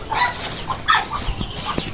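White ducks call out in short nasal bursts, several overlapping squawks and quacks close by, scattered irregularly with brief gaps between them, no talking over them.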